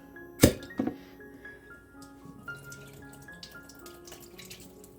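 Liquid drains from half-full cans while spaghetti sauce is made, with a sharp splash and a second smaller pour at the start, then faint trickles and drips in a quiet kitchen.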